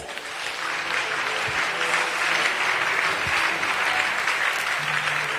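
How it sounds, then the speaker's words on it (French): Church congregation applauding together in praise, a dense, steady wash of clapping held at an even level throughout, with a few faint voices mixed in. "On acclame le Seigneur."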